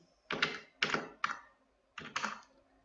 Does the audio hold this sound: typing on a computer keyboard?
yes